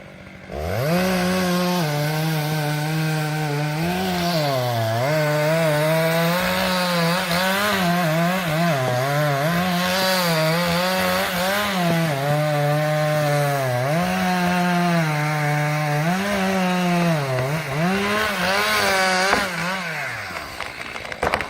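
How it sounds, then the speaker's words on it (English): A chainsaw cuts into a large tree trunk at the edge of a rock cliff, its engine holding a loud, steady whine with brief dips in pitch as the chain bites and bogs, continuous for about twenty seconds. "a worker carefully used a chainsaw to cut into a large tree trunk"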